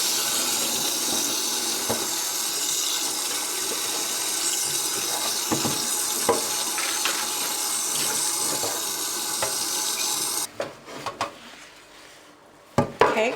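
Tap water runs steadily into a sink while pots and pans are rinsed, a loud continuous rush for about ten seconds before it stops and gives way to a few clinks and knocks of cookware.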